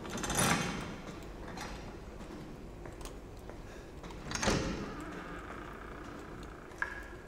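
A door in Resident Evil 7 opens with the snake key, giving a couple of mechanical clunks and a sliding scrape at moderate loudness, with a faint click near the end and no talking.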